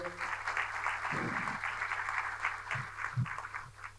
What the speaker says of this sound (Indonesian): Teman-teman sekali lagi tepuk tangan untuk Pak Pacul.